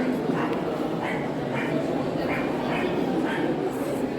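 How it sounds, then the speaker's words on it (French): Dogs at an animal expo bark and yip in a regular series of short calls over a constant hall crowd murmur, with people talking nearby. "C'est les chiens."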